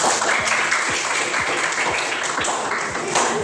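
A group claps together after a presentation, a dense sustained round of applause with a few sharper hand claps standing out, close and fairly loud, with no talking over it.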